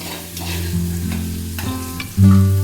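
Vinegar stirred into a sizzling pan while cooking a cucumber dish: a steady close frying crackle with scraping stirs, then a sudden loud surge of sizzle near the end as the liquid hits the hot pan.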